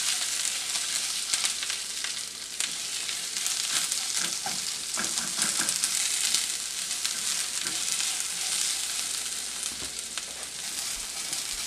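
Chopped onions sauté in a pan for a dry sweet-and-spicy eggplant curry. The hiss and crackle are steady, close and fairly loud, with a few soft stirring scrapes through the middle and no talking.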